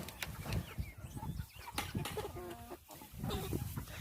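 Several chickens cluck and murmur close by in short, overlapping calls inside a PVC chicken tractor, with soft rustling and scratching sounds mixed in.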